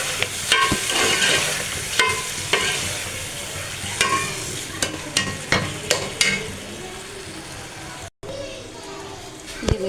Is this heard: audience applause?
no